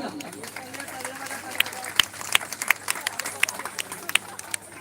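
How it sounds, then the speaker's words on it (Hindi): An audience applauds at a staged event, giving a steady spread of many hands clapping with sharper individual claps standing out, mixed with a faint crowd murmur at moderate distance. "तालियां।"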